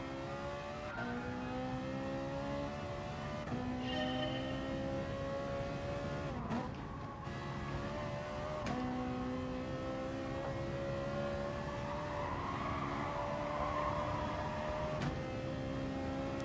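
A race car engine in the Gran Turismo Sport video game screams at high revs, climbing and dropping with each gear shift, loud and continuous for the whole stretch.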